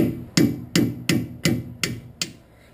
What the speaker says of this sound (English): hit the side cutters with a hammer to remove the pin